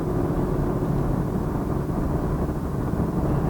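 A 2020 Chevy Camaro cruising at steady speed, its engine and road rumble forming a continuous low drone from inside the cabin with no talking.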